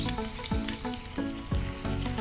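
Chopped green chillies and a small piece of ginger sautéing in a hot pan for a Gujarati dudhi oro dish, a steady close sizzle with periodic scraping stirs about once a second.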